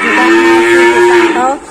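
Cattle moo loudly and close at a cattle dealer's pen, one long sustained bellow holding steady before tailing off near the end.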